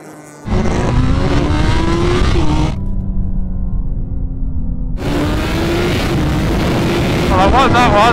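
A tuned BMW M4 with 1000 horsepower and a BMW M 1000 RR superbike launch in a standing quarter-mile drag race, with loud engine roars climbing through gears, a brief gap between shifts, then another surging pull with wind buffeting.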